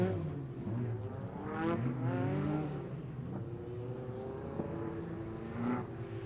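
Hot rod stock cars race in the third heat of a Border Stockcars meeting, engines droning and rising and falling in pitch as several cars pass fairly close, a continuous loud roar with no talk.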